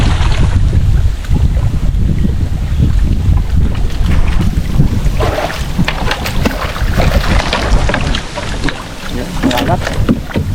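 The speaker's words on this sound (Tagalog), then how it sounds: "Walang agos eh, mahangin lang" Steady wind buffets the microphone in a continuous roar, with water lapping against a small boat close by.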